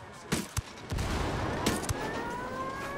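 Scattered sharp gunshots from the video game Ghost Recon crack over a steady electronic background hum, several quick bursts in the first half then a couple more, moderately loud.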